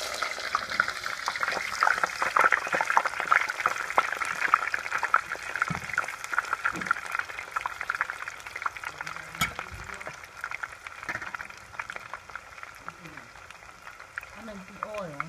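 Plantains fry in hot, splattering oil for a Haitian-style fried plantain, a steady crackling sizzle running throughout at moderate level, with occasional clinks and a voice talking faintly at moments.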